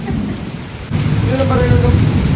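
Thunder rumbles low during heavy night rain in Kerala, a deep roll swelling partway through over a constant hiss of downpour.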